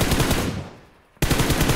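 Rapid automatic gunfire in the PUBG Mobile battle royale game, loud close bursts that fade away and then cut back in abruptly at full strength.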